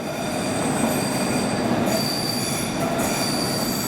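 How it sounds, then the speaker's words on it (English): A London Underground Hammersmith & City line train moves through Paddington station with loud, continuous metallic wheel squeal and rumbling carriages, heard close and without talk. "And that is a Hammersmith City Line service to Hammersmith."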